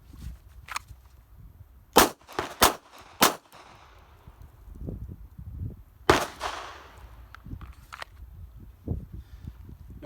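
Three sharp, loud pistol shots ring out at close range on a defensive pistol qualification range, fired from the 5-yard line in quick succession, a fourth report following after a pause, with faint movement and scuffing in between.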